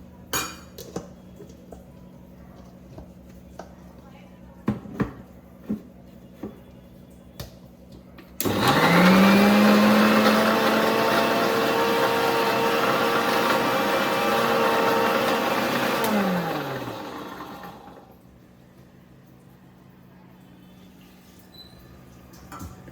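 An electric mixer grinder grinds coriander, water and other ingredients into a paste for buttermilk sambar. A loud, steady whirring roar lasts about eight seconds, then winds down, with a few clinks before it starts.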